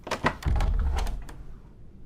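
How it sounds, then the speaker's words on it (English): A wooden door rattles and thumps as it is forced open with a shoulder: a couple of sharp knocks, then a heavy low-pitched shove and creak lasting about a second, close and fairly loud. "has to hit the door with her shoulder for it to open"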